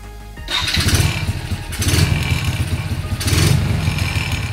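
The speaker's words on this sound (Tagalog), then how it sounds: "pag umandar na yung motor." A motorcycle engine starts and settles into a loud, close, steady running putter, with a few swells in revs across the stretch and no talk over it.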